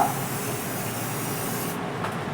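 A sprayer gives a steady, close hiss of spray that runs continuously and cuts off partly near the end, with no talking.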